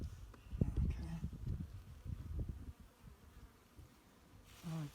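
Honeybees buzzing at an opened hive that is not very strong, a faint close hum with rustling and handling noises, and voices nearby.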